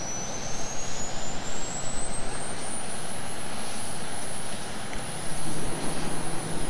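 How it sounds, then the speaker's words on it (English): F-22 Raptor jet engines spooling up in Microsoft Flight Simulator at Luke AFB, Arizona: a steady, loud turbine roar with a rising high whine, continuous throughout with no talk. "we'll be able to hear those engines fucking firing."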